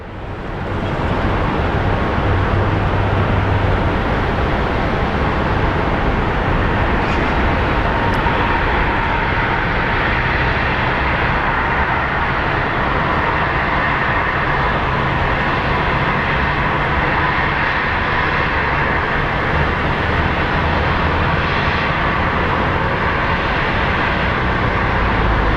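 An airliner arriving at Phoenix Sky Harbor International Airport from Salt Lake City roars loudly and continuously overhead, a broad sustained rumble and jet noise filling the whole stretch without talk.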